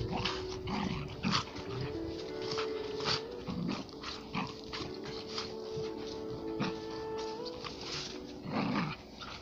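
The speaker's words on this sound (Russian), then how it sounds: "Совсем бешеный собака." A mongrel and a husky fight, with close, loud, steady growling, snarling and whimpering that swells in repeated bursts and never stops.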